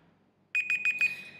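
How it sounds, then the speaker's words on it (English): A Google timer alarm going off: four short, bright, steady-pitched electronic beeps in quick succession, loud and close, with nothing else heard. "After 5 seconds or any time, you're going to hear an alarm."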